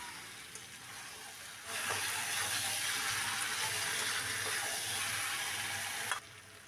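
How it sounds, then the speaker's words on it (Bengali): Fried chicken pieces are stirred in hot oil for a Bengali chicken curry. A loud, steady sizzle starts suddenly, holds with occasional stirring scrapes, then drops away. No one speaks. "ভাজা চিকেনগুলো দিয়ে ভালো করে কষিয়ে নেব"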